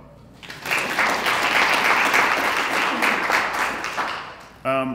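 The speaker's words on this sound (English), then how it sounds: "That's worth applauding." Sustained applause from a press conference audience in Atlanta, a dense even wash of clapping that swells quickly and holds for several seconds before a speaker's voice cuts back in at the end.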